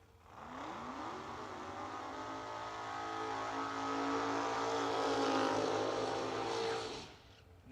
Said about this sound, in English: Nice burnout from the Firebird.